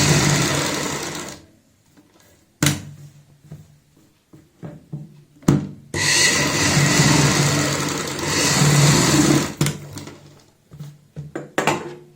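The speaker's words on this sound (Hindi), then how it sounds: "पेपर पेस्टिंग के साथ साथ सिलाई लगाएंगे" A sewing machine stitches kurti neck fabric with paper pasted along it, running in close, loud bursts of rapid whirring separated by brief pauses and a few sharp clicks.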